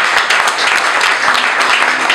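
An audience at a French-speaking public gathering supporting a youth initiative breaks into loud, dense applause, with many hands clapping together in a continuous close roar for the whole stretch.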